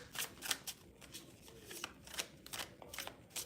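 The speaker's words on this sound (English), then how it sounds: "Let me shuffle this real quick, Lucas." Tarot cards being shuffled by hand during a live reading, a steady run of papery riffles and soft slaps repeating close up for several seconds with no talking.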